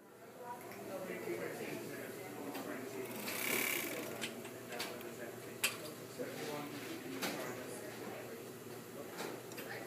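A Merrow hand-operated overlock sewing machine stitches the edge of a felt strap with a steady whirring drone and a few sharp clicks, close and continuous at moderate volume.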